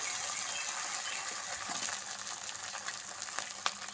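Cumin and ginger paste sizzles in hot oil for a pangas fish curry, a faint, continuous hissing fry with a few small clinks and stirring ticks, no voices.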